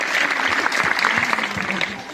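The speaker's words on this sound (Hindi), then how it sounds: "पसंद आया तो थोड़ा ताली तो बजाना." A crowd claps after a song at a school event, a close, lively burst of applause with voices murmuring underneath throughout.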